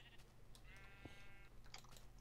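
Sheep bleating in a survival video game, a few short wavering bleats over a steady background hum with faint noise around them, fairly quiet and without any talk in between.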